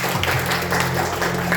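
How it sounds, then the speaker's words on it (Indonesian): A church congregation claps together during a Sunday worship service, a continuous wash of applause with a low sustained organ-like tone humming beneath it. "Sekali lagi tepuk tangan buat Tuhan Yesus."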